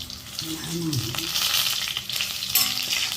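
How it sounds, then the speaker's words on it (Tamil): Stuffed brinjals fry in hot oil for a curry, giving a steady sizzle as they are turned in the pan, with a brief tonal scrape early on. "திருப்பி திருப்பி விட்டு இப்படி வேக வைக்கணும்"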